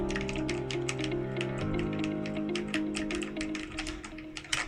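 A mechanical keyboard with modified blue switches clatters under steady, quick typing, with dense close key clicks and a few heavier spacebar thumps over a low background hum.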